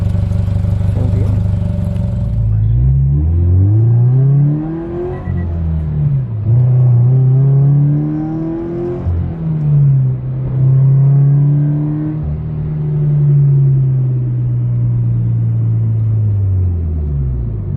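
Subaru BRZ fitted with a Spec D aftermarket exhaust, revved repeatedly from idle with deep rumbling rises and falls, loud and close, no talking over it.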